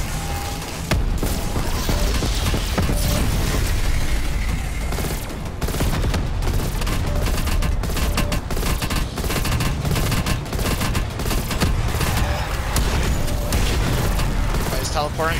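Continuous heavy gunfire in a Call of Duty: Black Ops Cold War zombies match during the Outbreak Easter egg, with dense rapid shots and booms that stay loud throughout, and a player talking over the action.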